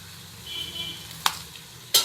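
Sliced onions hiss and sizzle as they fry in a pan for Kerala-style Thalappakkatti chicken biryani, a soft steady frying bed broken by two sharp clinks of a utensil against the pan, with no talking.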